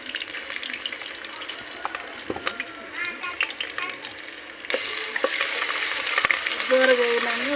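Garlic and ginger are added to a pan while cooking goat tripe fry in a village kitchen. A steady close sizzle with stirring scrapes grows louder and more intense halfway through.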